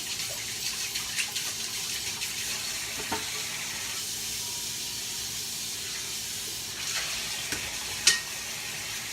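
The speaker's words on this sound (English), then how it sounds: "wash my hands." Water running from a kitchen tap while hands are washed, a steady faint hiss and splash with a few small clicks and knocks, heard alone in a quiet room.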